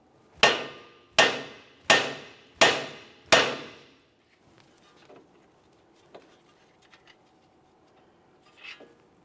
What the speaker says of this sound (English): I'm just going to carefully use my hammer, cause some vibration.